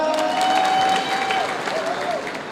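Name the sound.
audience applause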